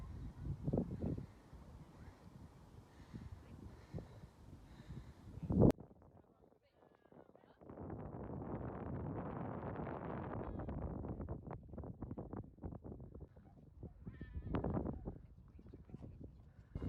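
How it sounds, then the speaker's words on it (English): Strong wind gusts buffet the microphone on the rocky Arthur's Seat hilltop in Edinburgh, a loud sustained roar in the middle and a later surge, with a person talking and quieter stretches between. "Super windy up here"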